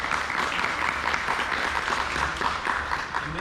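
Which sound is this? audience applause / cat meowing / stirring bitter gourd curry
audience applause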